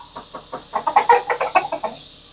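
Chickens roosting high in a tree in Oklahoma give a quick run of about a dozen clucks, rising and then fading, over a steady background hiss.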